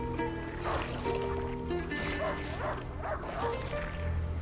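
A dog barks repeatedly at mid distance in the video game A Plague Tale: Innocence, several short barks over a droning ambient background.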